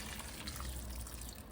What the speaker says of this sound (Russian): И добавим воды.